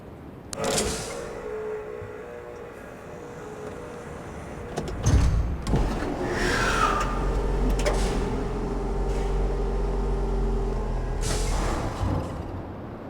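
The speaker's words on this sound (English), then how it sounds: "this is the cable car maglev system between each island and Riven" A cable car maglev gliding between islands in the video game Riven: a clunk and whoosh of departure, then a long steady mechanical hum and whine with a rising tone, ending in another thud, no speech.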